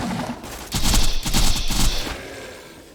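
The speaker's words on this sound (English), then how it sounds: "slag SMG" Rapid bursts of slag SMG fire in the video game Borderlands 2, a dense rattling fusillade that flares for about a second and a half before tapering off.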